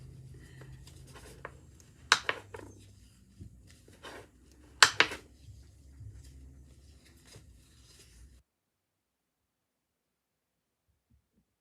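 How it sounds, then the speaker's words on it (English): Dry paper rustles and creases up close, with a couple of sharp scraping strokes as a tool presses folds, then silence. "And then I'm going to use my bone folder."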